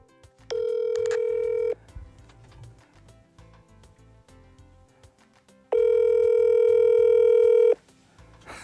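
Telephone tone after hanging up the phone: two steady electronic beeps, the first about a second long, the second about two seconds, loud and close, with quiet rustling between them.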